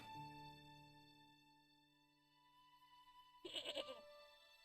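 A tethered goat in the Broken Sword adventure game gives a short, loud bleat near the end, following a stretch of quiet tonal game music.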